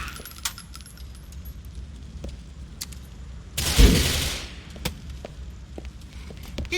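A burst of gunfire in GTA IV, one loud, dense blast surrounded by scattered sharp clicks and thin metallic pings against low background rumble.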